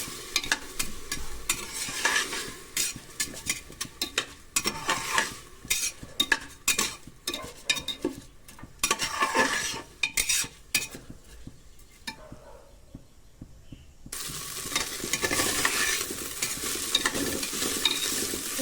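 Rice being stirred and dry-roasted in a pan for Nepali khir, with steady scraping stirs and light sizzling, a brief quiet lull near the end before the stirring resumes, close and alone.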